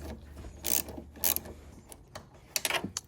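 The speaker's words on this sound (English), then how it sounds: "grab your 1/4" ratchet along with a swivel and 10mm right here" 1/4 inch ratchet with a swivel and 10mm socket loosening bolts on a 1999-2007 Chevy Silverado truck door, making quick, close bursts of ratcheting clicks in several short runs separated by brief pauses.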